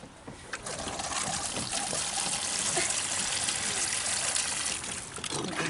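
Water pours steadily into a bucket of potting soil, a continuous broadband trickling and splashing that runs close and fairly loud for the whole stretch, with faint voices in the background.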